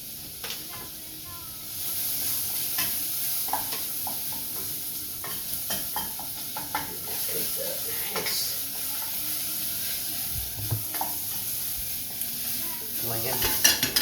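Tomato paste being stirred in a hot pan for eggplant Parmigiano gives a steady, close sizzle with repeated scraping stirs and small clatters throughout.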